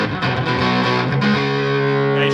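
An electric guitar runs through an AudioStorm HotBox amp attenuator, giving loud, distorted sustained chords with rich overtones that ring steadily, and a faint hiss sits underneath.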